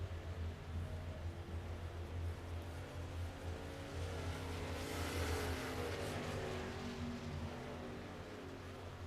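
At Port Royal speedway, the number 87 race car of Andy Patton roars down the backstretch into turns three and four. A continuous engine drone swells briefly near the middle before easing off, heard at a distance with no talk.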